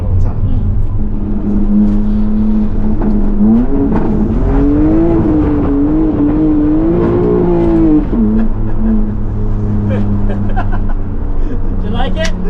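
BMW M2 (2023) accelerating on a race track to warm its tires, a loud engine drone rising and falling in pitch as it revs, with people talking over it.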